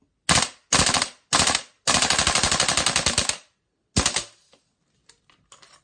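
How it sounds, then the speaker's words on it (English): A WE-Tech M16 gas blowback airsoft rifle dry-fires on full auto, running on propane: three short, sharp rattling bursts and then one long sustained burst, followed by a brief lone shot and faint clicks. "Fully automatic."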